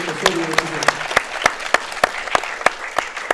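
Audience applauds athletes at a school weightlifting championship, clapping steadily with sharp individual claps standing out across the whole stretch; a voice talks briefly near the start.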